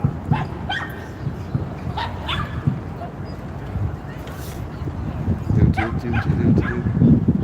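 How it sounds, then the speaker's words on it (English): Several dogs bark and yip in bursts at a science rally in Rhode Island, some whimpering, with people talking over them nearby. "Dogs everywhere. Bark, bark, bark."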